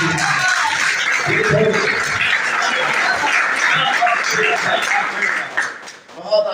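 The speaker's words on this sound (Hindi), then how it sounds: "एक दफा भरपूर तालियां" Audience at a ghazal gathering breaks into loud, steady applause that fills most of the stretch before thinning out near the end, with voices and chuckles mixed in.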